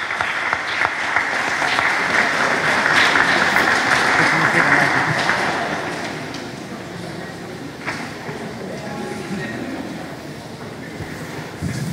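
Audience applause at a youth disaster-management competition held at a school in Hernád, loud sustained clapping that fades to a lower level after several seconds, with background noise.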